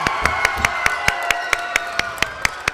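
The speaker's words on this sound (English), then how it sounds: "And the crowd goes wild." A high-school basketball crowd claps in a steady, evenly spaced rhythm after a made free throw, a dozen sharp collective claps ringing out over a continuous backdrop of crowd noise and cheering.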